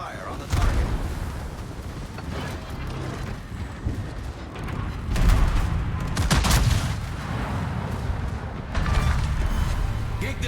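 Naval gunfire in World of Warships from the cruiser Schlieffen, a dense series of loud booms and rumbling salvos with a few heavier surges, carrying on steadily throughout.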